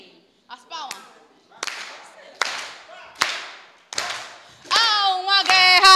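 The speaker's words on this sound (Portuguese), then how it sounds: "As palmas." A church congregation at a Breaking of Bread service claps in separate sharp strikes about every second, and voices rise and sing over the later claps.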